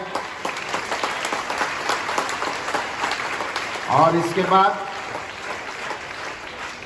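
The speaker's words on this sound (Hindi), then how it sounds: "तो एक बार सभी गुरुओं के लिए जोरदार तालियां हो जाए।" An Independence Day school gathering claps for its teachers, moderate crowd applause running beneath a voice, with a brief burst of speech rising over it midway.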